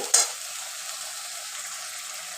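Ground poppy seed paste frying in a pan for a Bengali pabda fish curry, a sharp hiss at the start settling into a faint, even sizzle, close and alone.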